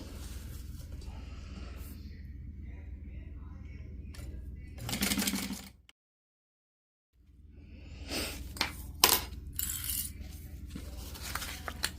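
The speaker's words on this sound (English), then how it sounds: "We will take this to the machine where we will sew at 1/4 of an inch to secure this." A sewing machine runs in bursts stitching a quarter-inch seam in fabric, its steady whirring broken by a brief pause, close and clear.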